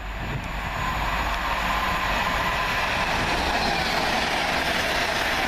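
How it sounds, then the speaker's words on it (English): A Class 350 electric passenger train runs past at Cheddington with a steady loud rumble and rushing roar that holds for several seconds, and no voices are heard. "There goes 350 122. Working 1H09 off London Euston going to Manchester Piccadilly."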